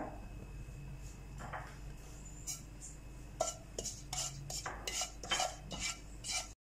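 Cumin seeds added to about two tablespoons of hot oil in a pan, with faint sizzling under a series of close metallic clinks and scrapes of a spoon against cookware.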